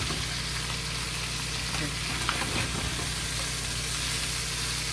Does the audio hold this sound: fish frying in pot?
yes